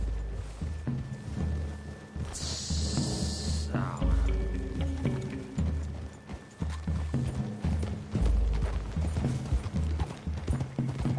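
Horse hooves clip-clopping on ground in a Western video game, a steady near rhythm of hoofbeats with a brief whinny and gear rattle, running under game music and ambient sound.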